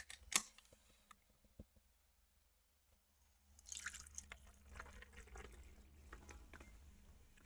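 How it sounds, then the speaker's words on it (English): Sprite soda poured over a cocktail, starting with a sharp clink and a few faint drips, then a soft fizzing pour that swells midway and continues with a bubbling hiss, close and quiet. "And we'll top it with that Sprite."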